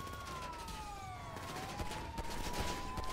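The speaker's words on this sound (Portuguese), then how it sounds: "Estão atirando em mim." Rapid gunfire during a police chase in GTA 5, fairly faint shots crackling over a wailing police siren that sweeps up and down throughout.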